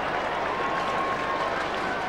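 A large crowd at a 1999 AFL match between Carlton and the West Coast Eagles roars steadily and loudly, a dense, sustained cheer throughout.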